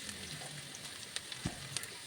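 Chopped onions fry in a pan, a steady soft sizzle with a few faint clicks of stirring, close and alone.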